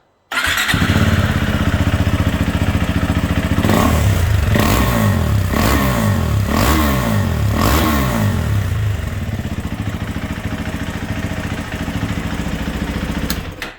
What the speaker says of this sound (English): The bike actually sounds pretty good. We'll start it.